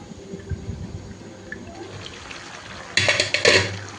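Water is poured into a pot of mutton curry being braised, a soft gurgling at first, then a louder gushing splash in the last second.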